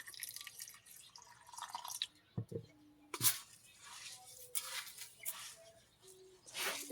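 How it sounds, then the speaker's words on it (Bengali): Water is poured onto salt in a bowl and drips in, with quiet splashes and scattered clinks of a utensil against the bowl. "অল্প একটু পানি দিয়ে দেবো"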